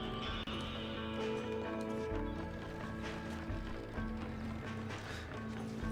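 Horse hooves galloping in the Red Dead Redemption video game, a steady rapid clip-clop running under a dense bed of game music and ambience throughout.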